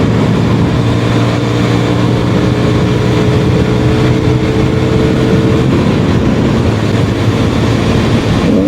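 A motorbike ridden at speed gives a loud, continuous engine drone with a slightly rattly top end, mixed with road and wind roar, steady throughout with no talking.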